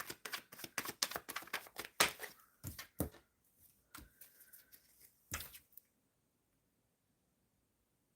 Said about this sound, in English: Shuffling for why Amy?